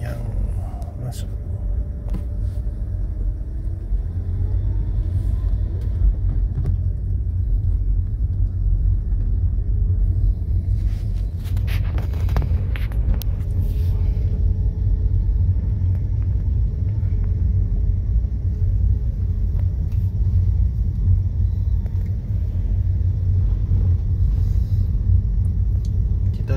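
Steady low rumble of idling and moving vehicle engines at a bus terminal in Batoh, Banda Aceh, continuous and fairly loud, with a brief clatter midway and someone talking over it.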